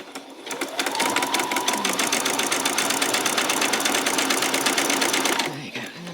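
Sewing machine running a zigzag back stitch, its needle hammering in a fast steady rhythm for several seconds before stopping, close and clear, with a voice speaking over it.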